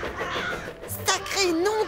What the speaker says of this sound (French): il s'aperçoit que le ciel est rempli de corbeaux très bruyants